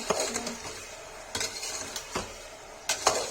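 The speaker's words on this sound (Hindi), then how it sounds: "इसको चला देंगे गाइस, नमक डाल के चला देंगे" Pointed gourd (parwal) and potato pieces are stirred with salt in a pan. A utensil clinks and scrapes in several distinct strokes, with a soft background hiss between them.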